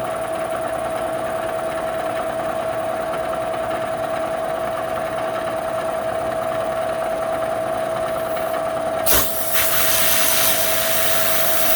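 A Bridgeport milling machine spindle turning at 1,000 RPM on a light cut, giving a steady close mechanical hum with a sustained tone, then a brief sharp clunk near the end.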